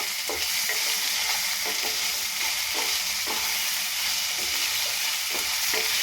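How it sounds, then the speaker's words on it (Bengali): Grated raw mango with salt is stirred in a frying pan over steady loud sizzling, with a spatula scraping in regular strokes about every half second, no voices. "এখানে আন্দাজ মতন লবণ দিলাম, দিয়ে নিয়ে নাড়াচাড়া করব।"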